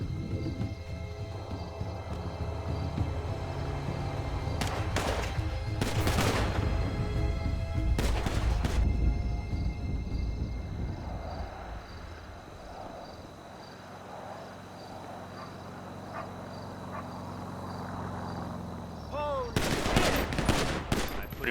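Gunfire erupts in the video game GTA V, with loud close bursts of shots in quick clusters, a calmer stretch in the middle, and then a final heavy volley.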